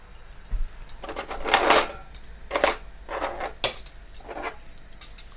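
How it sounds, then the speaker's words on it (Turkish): Metal forks being picked up and clinking together at a village home breakfast, a series of bright, jangling metallic rattles in several close bursts with short pauses between, no voices. "Bir de çatal alalım aynı zamanda."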